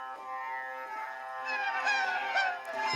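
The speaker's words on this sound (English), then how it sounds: "Seagulls, right? Somebody laughing," Sped-up tape loop of laughter from The Beatles' "Tomorrow Never Knows": shrill, warbling high-pitched cries rise and fall continuously like squawking gulls, growing brighter toward the end.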